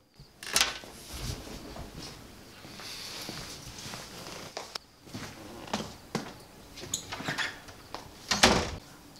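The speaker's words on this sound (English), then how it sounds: "Joshua, close the door" A door is pulled shut indoors during a tense scene, giving a sharp thud among scattered knocks, shuffles and footsteps. The room is otherwise quiet and no one speaks.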